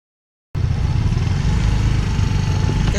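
A motorcycle engine kicks in abruptly after a brief silence and roars continuously, revving with a loud, rough, low rumble close by.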